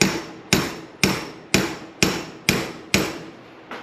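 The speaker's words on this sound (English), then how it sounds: "And just hammer it in." A hammer drives a part into place during the teardown of an RB26 engine with individual throttle bodies: eight sharp metallic strikes at an even half-second rhythm, close and clear, with no talking.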